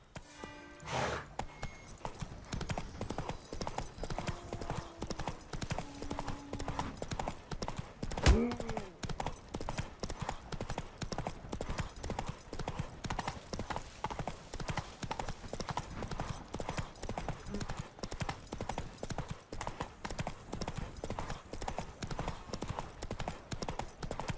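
Hooves of the horse Roach in The Witcher 3 video game clip-clop in a steady, continuous galloping rhythm close by, with a brief whinny and faint game ambience underneath.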